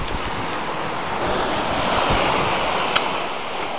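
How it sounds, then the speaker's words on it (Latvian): Ocean surf rolls against a rocky coast with green grass, a steady broadband wash of waves that swells slightly midway, with wind buffeting the microphone and no voices. "Okeāns."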